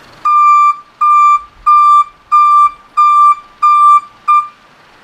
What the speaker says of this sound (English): with the reverse alarm on it, it will be helpful